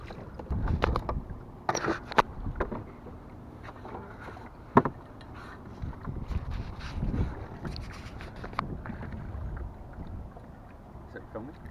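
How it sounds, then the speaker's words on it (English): An oar swishes back and forth in the water over the stern of a small dinghy, giving soft splashes and knocks, with wind noise on the microphone and some nearby talk. "You put the oar in the water over the back and you swish it"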